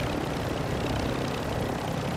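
Steady, loud roar of a helicopter's engine and rotor in the video game Ashika Island, a continuous broadband drone with no break and no talk.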